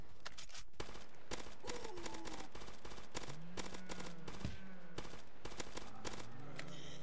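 Rapid bursts of M4 rifle fire in the Roblox game Zombie Uprising, dense repeated cracks in quick volleys with short gaps, loud and continuous over faint tonal game effects.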